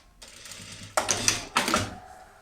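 A sewing machine stitches the hem of a pajama leg, running in two short loud bursts with a brief pause between them over a low background hum.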